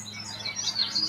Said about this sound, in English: You guys hear those birds?